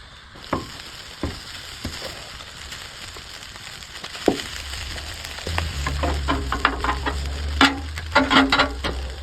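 Fried rice sizzles on a hibachi grill, starting with sparse sharp clinks and taps of a spatula, then swelling into a steady loud hiss with rapid metallic scraping and clatter.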